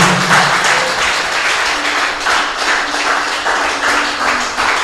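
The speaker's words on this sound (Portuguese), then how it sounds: "Vamos aplaudir o Senhor" A church congregation claps steadily and loudly throughout, a dense wash of many hands filling a large room without pause.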